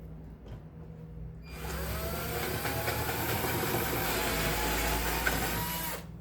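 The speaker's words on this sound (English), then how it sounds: "I'm not drilling all the way up to the top" A power drill whines steadily as it bores a hole a couple of sizes under 3/8 inch for several seconds, with a gritty grinding texture, then cuts off.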